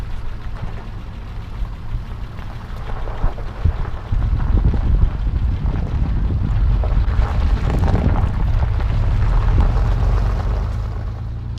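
Vehicle cruising on a highway during a solo overland trip from Albuquerque to Denver, with a steady roar of wind buffeting the microphone over a low engine and road rumble, swelling louder midway and staying continuous throughout.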